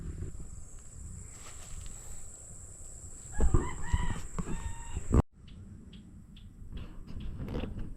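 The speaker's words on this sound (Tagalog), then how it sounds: "Meron din pong bandang ibon doon nag-iingay ay." A rooster crows loudly at a banana plantation, with other fowl calling and clucking around it in the open air. A steady high whine runs through the background, and the sound briefly cuts out near the end.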